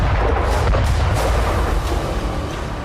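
Loud, continuous deep rumbling from explosions at an oil refinery in Tuapse, Russia, a sustained roar with no distinct separate blasts and no talk.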